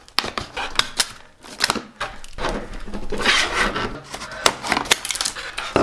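Scissors snip and crunch through stiff plastic packaging, with dense crackling and rustling bursts, close and fairly loud, no voices.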